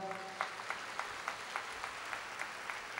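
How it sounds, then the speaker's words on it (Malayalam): A church congregation claps together in praise of God, with a steady, rhythmic beat of hand claps. The sound is fairly soft and runs over a quiet room background. "കൈയടിച്ച് ദൈവത്തെ മാതപ്പെടുത്താം"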